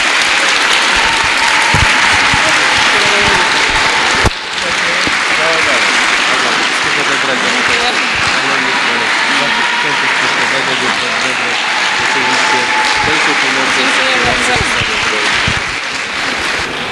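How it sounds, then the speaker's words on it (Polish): Loud, sustained applause from an audience cheering a Polish champion, steady and dense for the whole stretch with voices talking over it and a brief dip partway through. "olbrzymie brawa dla Magdy Brendel, mistrzyni Polski."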